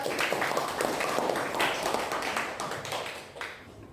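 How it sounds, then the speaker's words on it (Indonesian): Schoolchildren in a classroom clap together for a group that has just presented, producing a dense, even burst of applause that holds for a few seconds and thins toward the end. "Tepuk tangan untuk kelompok Peta Konsep."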